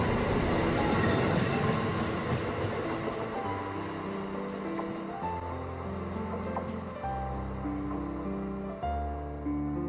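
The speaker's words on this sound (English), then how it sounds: "we will be travelling south in our regional train over a couple of railroad bridges" A regional train rumbles south over railroad bridges near Westerly, with a low droning hum and shifting tonal whines from the wheels and motors, steady and close, without voices.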